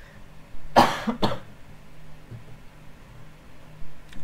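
Two sharp, close coughs in quick succession, then quiet room tone with a faint stir afterward.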